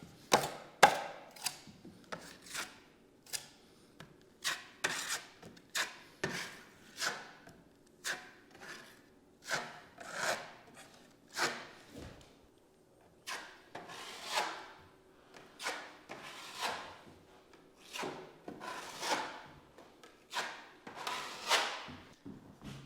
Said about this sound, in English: Okay, I've got all the holes mudded